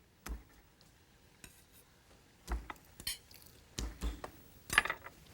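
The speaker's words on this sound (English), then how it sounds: "just take a knife like this and just sort of smash them" Big garlic cloves smashed with a kitchen knife on a board while making Texas-style chili: about five or six sharp, separate thuds spaced irregularly over a quiet background, close up with no talk.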